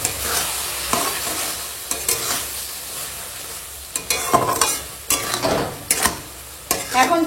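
Tomato chutney with sugar bubbles and sizzles in a pan while a spoon scrapes and stirs it in repeated strokes, close and fairly loud, with no talking.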